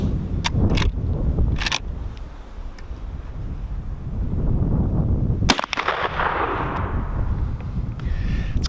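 A Henry Big Boy .44 Magnum lever-action rifle fires at a 50-yard outdoor range, loud sharp reports with the blast and echo rolling over steady wind noise on the microphone.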